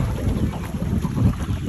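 Strong wind buffets the microphone on a tourist boat trip in Vietnam's Tràng An and Ha Long Bay area, a continuous loud rumbling gust with faint water and engine noise beneath.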